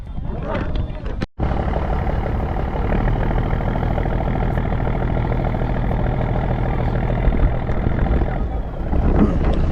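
A motor boat engine at Patharpratima in the Sundarbans, a loud, steady low throbbing drone running continuously with a brief interruption near the start, with voices speaking over it.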